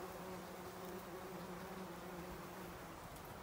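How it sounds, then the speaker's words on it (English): Bumblebees buzz at their nest in a faint, continuous drone with no pauses, the steady hum of several insects close together, heard alone without voices. "I found a bumblebee's nest."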